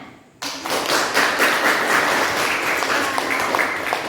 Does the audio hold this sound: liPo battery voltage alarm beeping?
no